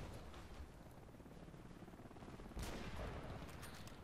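Gunfire from an M24 sniper rifle in the shooter game Battlefield Play4Free, a sharp shot standing out once from a steady, faint battlefield noise bed.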